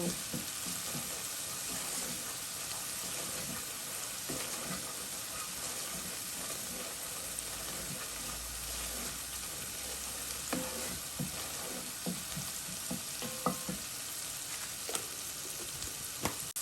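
Steady sizzling and crackling of masala spices frying in hot oil in a pan, with occasional stirring scrapes, continuous throughout with no talking.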